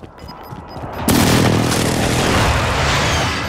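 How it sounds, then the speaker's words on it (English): A precision airstrike in Call of Duty Warzone lands with a sudden loud blast, then rolls into a sustained roar of explosions and rumbling debris that stays heavy for several seconds, after faint game sounds and beeps. "Enemy precision airstrike, take cover."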